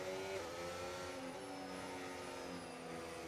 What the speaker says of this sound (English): Bit of aggressive tyre warming there from the Williams driver